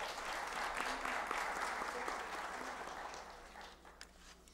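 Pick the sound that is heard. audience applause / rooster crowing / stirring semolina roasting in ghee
audience applause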